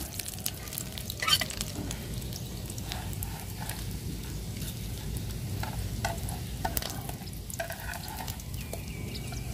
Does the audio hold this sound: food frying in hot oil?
yes